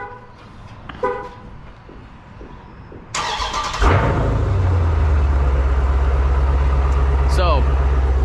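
A 2020 Dodge Challenger Scat Pack Widebody with mid-muffler delete and H-pipe starts up after quiet street sounds and a brief horn, its exhaust settling into a loud, deep, steady idle rumble close by.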